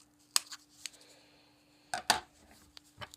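Scissors snip through yarn in a few sharp, close clicks, a pair of quick cuts near the start and a cluster of snips later, with quiet handling noise between.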